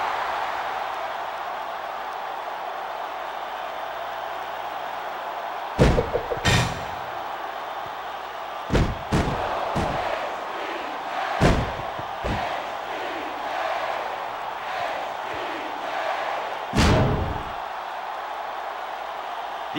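A large arena crowd roars steadily, punctuated by several sharp slams and impacts, with the cheering swelling after each hit.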